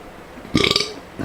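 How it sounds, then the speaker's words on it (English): A single drawn-out, stuttering burp, loud and close, pulsing several times over about half a second, followed by a brief fainter second burp. No talking. "Oh, God, it's a burping frenzy."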